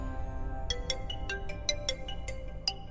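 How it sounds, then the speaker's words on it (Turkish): A telephone ringtone plays a quick, evenly spaced run of bright electronic beeps that starts after a brief pause and continues to the end, close and clear over low background hum, with no one speaking. "Telefon açsana."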